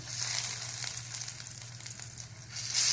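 A veg cutlet fries in hot oil in a pan, giving a continuous bright sizzle with soft crackles, steady throughout and louder at the end.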